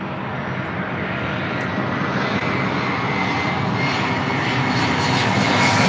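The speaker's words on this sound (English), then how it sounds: "It's an A320 originally with Northwest Airlines." An Airbus A320 airliner once flown by Northwest Airlines, its engines roaring steadily and loud at LAX, the broad rumble slowly building in strength with no voices.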